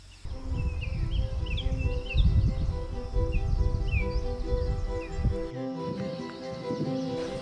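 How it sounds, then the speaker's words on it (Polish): Wild birds sing outdoors in northern Gran Canaria, short bright chirps and trills repeating from a short distance over heavy low wind rumble and a steady tonal background hum. "Ale na pewno to, co słyszycie, to jest śpiew ptaków."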